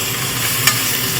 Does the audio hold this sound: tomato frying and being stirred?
yes